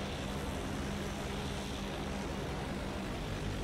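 A propeller airplane in the video game Battlefield 1 drones steadily throughout, a dense continuous engine roar with no breaks, loud and close.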